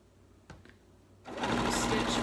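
A sewing machine runs steadily, stitching pillowcase fabric close up, starting after a couple of faint knocks and holding a continuous whirring hum to the end.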